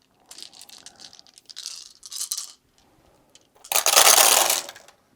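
Ten dice rolled for creature combat in a board game, giving several short clatters and rattles followed by a louder burst of dice tumbling and settling, with no talk.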